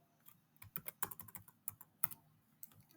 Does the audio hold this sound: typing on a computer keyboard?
yes